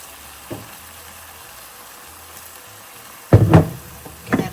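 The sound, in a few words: balsamic vinegar added to sizzling caramelized onions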